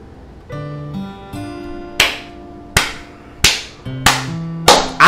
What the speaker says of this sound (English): I just gotta clap it up.